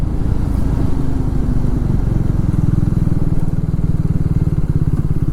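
A Triumph Tracker 400 motorcycle ridden on a rough bypass road, its engine a loud, close, continuous throbbing drone with steady pulsing, wind and road noise mixed in.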